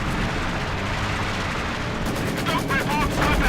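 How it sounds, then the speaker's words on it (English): Mortar and gunfire from the Company of Heroes 2 strategy game: a dense, continuous barrage of blasts and rattling shots, with a caster talking excitedly over the battle. "Taking mortar fire!"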